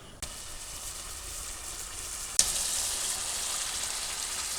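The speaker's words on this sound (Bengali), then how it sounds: "মশলা কষানো হয়ে গেছে তেল সাজিয়ে দিচ্ছে" Spices sizzle steadily in hot oil in a pan, a close, even crackle that jumps louder partway through and stays at that higher level.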